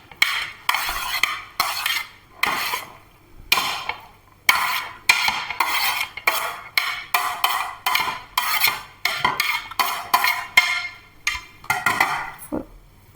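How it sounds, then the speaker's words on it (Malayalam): A spoon or utensil scrapes and clatters in a bowl as salad ingredients, including chickpeas and lemon juice, are tossed together. The strokes come in a steady rhythm of about a dozen loud, close bursts, with no talking. "ഇത് നന്നായി മിക്സ് ആക്കാം"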